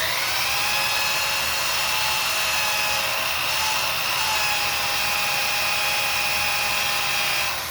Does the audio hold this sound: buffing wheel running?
yes